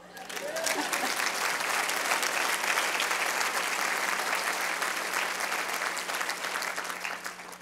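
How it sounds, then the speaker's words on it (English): Steady applause from a sizeable audience, dense clapping that holds for several seconds and tapers slightly near the end. "And now you can applaud."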